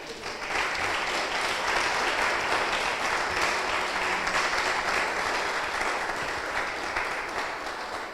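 A congregation at a church sermon applauds the Lord, sustained loud clapping from a large crowd that swells in and holds steady for several seconds without talk.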